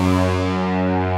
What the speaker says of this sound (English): The preset we're using today comes from SRX Orchestra. It is the trumpets preset, which originally is going to sound like this.